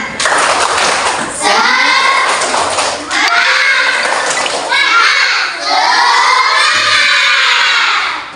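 Classroom of fourth-grade schoolchildren doing a rhythmic spirit clap with loud shouting and cheering, close and energetic, in bursts separated by brief pauses.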